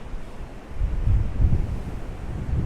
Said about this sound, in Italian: 4-5 metri di onde che arrivano